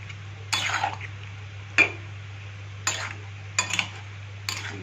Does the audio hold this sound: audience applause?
no